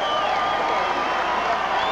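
Football stadium crowd at a 1989 Clemson at Virginia Tech college game cheering: a loud, continuous, dense roar of many voices that holds steady throughout.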